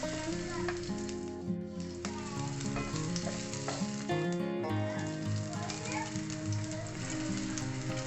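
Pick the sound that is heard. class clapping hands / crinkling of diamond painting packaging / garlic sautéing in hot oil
garlic sautéing in hot oil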